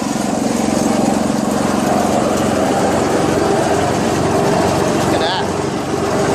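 A vintage Jacobsen Imperial 26 snowblower with a Tecumseh engine runs steadily and loudly close by, its auger and impeller engaged and spinning fast, with a brief remark spoken over the drone.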